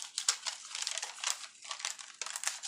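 Gift wrapping paper is cut and handled for a crafted journal, giving crisp, close crinkling and rustling in quick irregular bursts that are fairly quiet, with short pauses between, and no voices.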